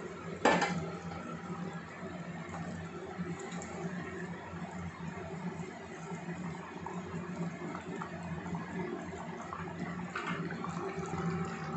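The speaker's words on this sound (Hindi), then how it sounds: "इस पर थोड़ा सा गरम पानी डाल देना अपने हिसाब से।" Hot water pours into a pan of fish curry cooking on the stove, a continuous watery rush with faint metallic clinks of pots and utensils, and a sharp clatter near the start.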